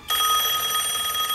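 An electronic telephone bell rings steadily and loud, a bright continuous trill starting almost at once and holding for over a second with no talk.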